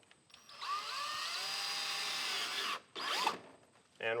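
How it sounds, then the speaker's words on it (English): A power drill bores through a plastic panel on a Polaris off-road vehicle during a windshield and rear panel mod, a close, steady whining grind lasting about two seconds, followed by a brief second burst as the bit breaks through. "it's not like we're drilling into metal or anything"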